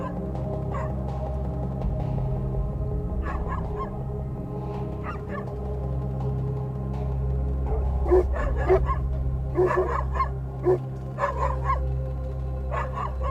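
Dogs bark in scattered bursts at a distance over a steady low hum, the barks growing more frequent toward the end.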